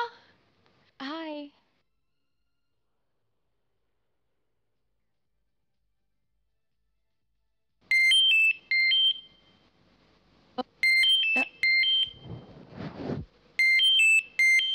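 A phone rings with repeated electronic tone bursts, fairly close and clear, broken by short gaps and a brief noisy rustle between the ring groups.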